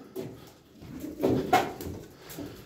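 Pigeons, including a smoky-coloured bird, give a few soft coos close by, with faint rustling between the calls and no voices.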